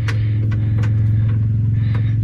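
Frogeye Sprite car engine running loudly right after being started in gear, a steady low rumble with a few light clanks over the top, heard close up.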